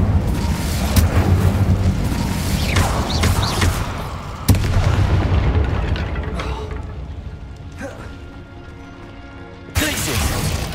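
Incendio fire spells blasting in the Hogwarts Legacy video game: a series of loud booming bursts and crackling impacts layered over game sound and voices, with sharp hits near the middle and at the end.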